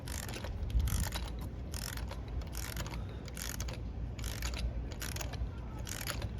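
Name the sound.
wrench tightening a lug nut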